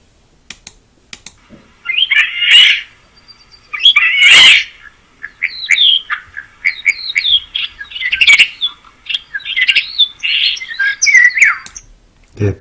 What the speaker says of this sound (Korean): 여러분, 유럽 찌르레기의 소리를 한번 들어보실까요?